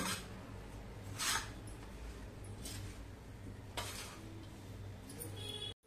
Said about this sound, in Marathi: आता सारं साहित्य आपण एकजीव करून घेऊया. चांगलं मिसळून घ्यायचं.